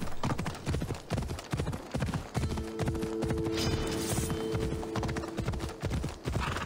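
Horse galloping in the video game Assassin's Creed Odyssey, a loud, rapid, steady clip-clop of hooves with a brief whinny-like tone partway through.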